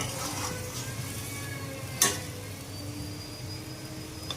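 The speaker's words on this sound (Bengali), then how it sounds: "ঝোলটা ফুটে এসেছে, এবার মাছগুলি দিয়ে দেবো, একটু নেড়ে দেবো" Small chapila fish go into a bubbling fish gravy, which keeps up a soft sizzle. A single sharp clink of a utensil against the pot comes midway, fairly faint overall, with no talk.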